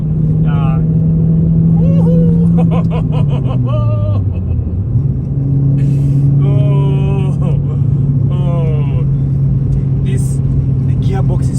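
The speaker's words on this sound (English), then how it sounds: "The sound of it, it's so sweet that you don't have to play music in this car." A naturally aspirated 2006 Renault Clio RS drives along Namibian roads, its engine droning loudly from inside the cabin with pitch rising and falling through gear changes, while someone talks over it.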